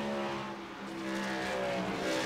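Race trucks roar into turn two, a loud sustained engine drone with shifting pitch as several vehicles run close together.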